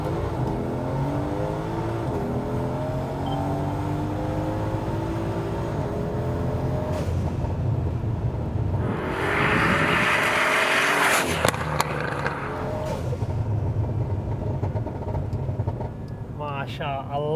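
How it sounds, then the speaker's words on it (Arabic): A Mercedes C63 AMG tuned to 800 horsepower, fitted with a full FI gold exhaust from the turbo downpipe back, revs hard and close with sharp exhaust pops and crackles between throttle blips, and a voice is heard briefly near the end. "ما شاء الله المتفرقعات يا الحبيب. اكزوست السيارة FI جولد"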